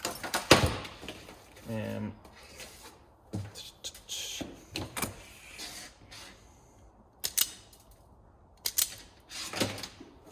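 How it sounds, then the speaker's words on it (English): Wire strippers cut and strip wiring while extending leads to the dash and OBD port of a Ford Capri 2.9; several sharp clicks and snips come close, separated by handling noise and quiet gaps. "I love these flipping wire strippers."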